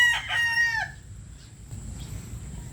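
Green-legged Hatch Grey chickens on a farm give one loud, drawn-out crowing call up close, followed by a quieter stretch of low background farmyard noise.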